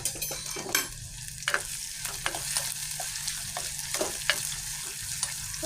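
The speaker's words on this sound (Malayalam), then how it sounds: "അപ്പം ഇത് നമുക്ക് നന്നായിട്ടൊന്ന് വഴറ്റിയെടുക്കാം" Crushed ginger and garlic sauté in a pan for a tuna fish curry, giving a steady close sizzle broken by repeated spatula scrapes and taps, with no talking.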